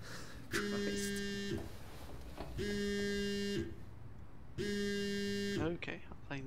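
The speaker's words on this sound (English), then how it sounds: "Who sets a vibrate for their fucking alarm? Yeah, it's not the alarm, it's the phone." Within the video game SOMA, a phone set to vibrate buzzes as an alarm in three separate drawn-out bursts, each about a second long with short pauses between, loud and close against a quiet background.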